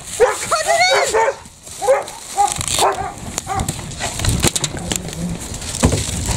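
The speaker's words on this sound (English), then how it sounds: "You make the dog bark too." A dog barks indoors several times in short bursts, with a whimper and yips among them. People talk around and between the barks.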